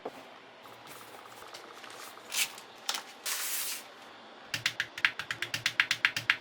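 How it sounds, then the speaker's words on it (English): Keys on a Keotsang Q1 mechanical keyboard are being assembled and tested. Scattered clicks and a scraping shuffle give way to a quick, even run of crisp, close keystrokes. "So as I finesse and build this keyboard from Keotsang"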